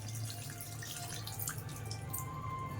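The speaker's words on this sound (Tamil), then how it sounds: "புளி ஊற்றுறேன்." Tamarind water pours steadily into a cooking pot, a continuous splashing trickle with drips, fairly close and with no talking.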